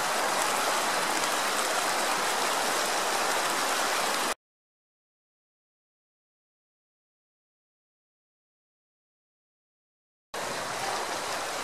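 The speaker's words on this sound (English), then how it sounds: "I'm right down by the river now" A river rushing over bedrock at Knights Ferry gives a steady broadband wash of flowing water. It is cut off by a long stretch of total silence, then the water returns at the same level.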